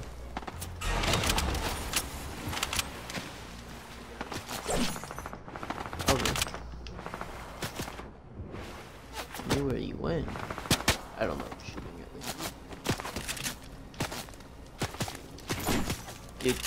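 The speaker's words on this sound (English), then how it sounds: "I'm being shot at." Gunfire in a Fortnite match cracks repeatedly in bursts and single shots, loud and close, while players talk over the shooting.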